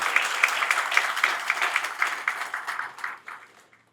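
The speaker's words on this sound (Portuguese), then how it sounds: "eu peço uma salva de palmas aos nossos parceiros e patrocinadores" An event audience at the Fórum Desenvolve Londrina launch applauds partners and sponsors, a full burst of clapping that stays strong for a few seconds and then fades out toward the end.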